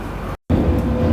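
A steady low rumble and rattle of a moving London Underground train, heard from inside a fairly empty carriage, briefly cut out before resuming.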